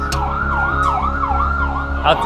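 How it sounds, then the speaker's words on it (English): A Hatzalah private community ambulance siren wails steadily, rising and falling in a repeating sweep, loud and close, with a brief extra burst near the end. "that was the private organization, the private ambulance."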